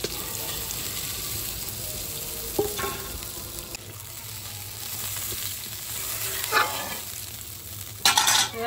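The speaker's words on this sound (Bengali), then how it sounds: "আর জল দিয়ে দিচ্ছি।" Water added to a pan of fish curry made with Bambus fish from the Ganga at Nabadwip, bringing a steady close sizzle with stirring scrapes, and louder bursts of hiss near the end.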